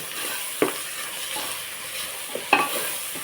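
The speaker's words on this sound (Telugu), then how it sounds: "అల్లం వెల్లుల్లి పేస్ట్ వేసాను ఒకసారి కలిపేసుకున్నాను" Ginger garlic paste sizzles in hot oil while being stirred in a pan, a continuous close hiss broken by two sharp clanks of the spoon against the pan, no voices.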